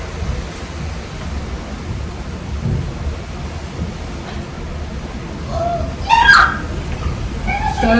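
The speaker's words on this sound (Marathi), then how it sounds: "तर पाऊस खूप जोराचा आला आहे इतकं वादळ सुटलेलं आहे" Heavy rain falls steadily in a thunderstorm, a dense broadband hiss filling the whole stretch with a low rumble underneath and a faint chirp near the end, no talk.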